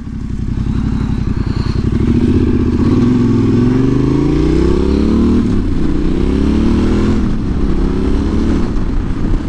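A Yamaha Tenere 700 motorcycle with a modified stock exhaust rides steadily. Its loud, close parallel-twin drone rises and falls through gear changes and sounds throaty and continuous throughout.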